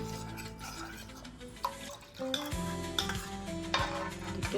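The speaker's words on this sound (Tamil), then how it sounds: "இதை கலந்து விட்டுடலாம்." Custard mixture being stirred into milk in a pan for a homemade fruit custard, a soft scraping and swirling of the utensil with light clinks against the pot, fairly quiet, with background music and no talk.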